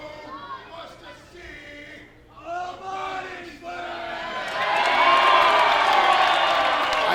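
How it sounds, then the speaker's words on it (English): A wrestling crowd at a live independent show in London chants in rising, rhythmic unison for a body slam, starting as separate voiced chants and swelling into loud, dense cheering during the last few seconds. "Crowd chanting for a body slam early here."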